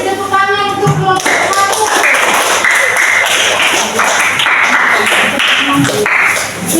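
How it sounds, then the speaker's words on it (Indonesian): Students clap for a presenting group in a classroom, close, brisk hand claps with sharp taps mixed in, fairly loud and continuous, while a brief musical tone sounds at the start. "Kasih tepuk tangan untuk kelompok"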